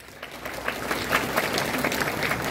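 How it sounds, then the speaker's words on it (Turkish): Strong audience applause fills a wedding hall at its opening ceremony, a dense steady clapping from a crowd that holds loud for a couple of seconds with no talk over it. "Güçlü de bir alkış yapalım."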